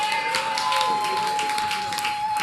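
Audience at a live magic show clapping, a dense, steady patter of many hands close by, with a faint tone running beneath.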